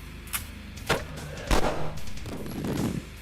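Weapons in the first-person shooter Sauerbraten fire a few separate sharp shots and thumps at uneven intervals, followed by a rumbling burst, loud and close with no talking.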